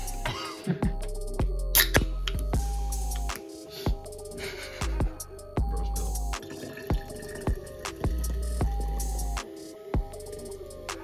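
Coca-Cola Zero Sugar being poured, with repeated sharp splashes and drips among a fizzing carbonated hiss, heard up close in irregular bursts.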